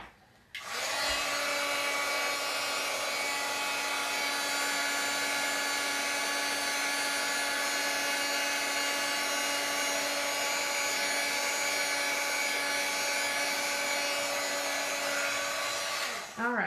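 Steady whirring heat tool blows continuously on a wet watercolor card for a long stretch, starting with a click and running at an even, close, moderately loud pitch until it cuts off.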